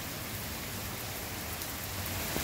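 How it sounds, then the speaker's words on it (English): Steady, heavy rain pouring down with a dense, even hiss and no pauses, fairly quiet overall. "You made it rain, kitty cat."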